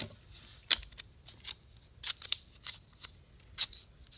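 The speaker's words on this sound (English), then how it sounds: "I'm going to cut a thin strip" Scissors snip through thin material to cut a narrow strip, a string of crisp close cuts in irregular rhythm with quiet pauses between them.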